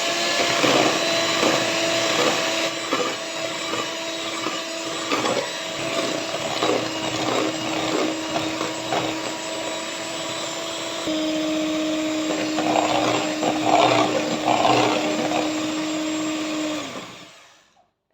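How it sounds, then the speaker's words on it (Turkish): An electric hand mixer whips eggs and sugar into a foamy cake batter, its motor holding a steady, close, continuous whine for about seventeen seconds before switching off. "Üzerine bir su bardağı şekerimi ilave ediyorum ve mikserimle 5 dakika çırpacağım köpürene"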